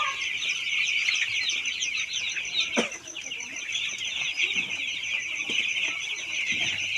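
Chicks and hens at a poultry seller's farm, with dense, continuous high peeping and clucking and a brief nearby flutter.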